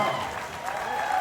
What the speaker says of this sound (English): maybe we can do one of those slow clap things where we start slow and then it speeds up